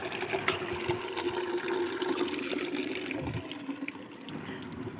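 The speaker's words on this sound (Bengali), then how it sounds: "জল ভরে নিলাম গাছে দেওয়ার জন্য" Water pouring steadily into a container filled for watering potted adenium plants on a hot afternoon, a continuous close gushing rush with no talking.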